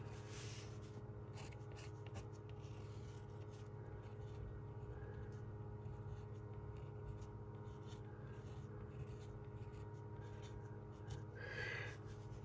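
A Copic Multiliner fine-tip pen scratches steadily across paper, a soft, continuous close-up scribbling with brief pauses, faint and alone against a quiet room hum.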